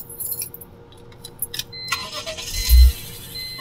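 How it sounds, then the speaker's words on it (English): A car engine turning over and catching as the vehicle is switched on, a brief loud low thump near the end after some key and cabin clicks, with no talk. "then I'm going to turn the vehicle on"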